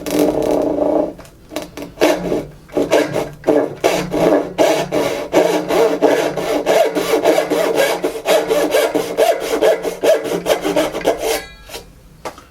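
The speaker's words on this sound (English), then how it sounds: "It's not the fastest cutting saw in the world, but it does decent." A Bad Axe 12-inch small tenon and dovetail backsaw cuts through wood in loud, close, rhythmic push-pull strokes, with brief pauses between bursts of rasping teeth.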